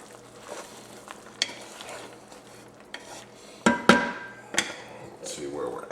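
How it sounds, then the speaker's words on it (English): A spoon or spatula stirring food in a frying pan for Salisbury steak, with a low steady sizzle and a few sharp scrapes and clanks against the pan near the end. "Another quick stir."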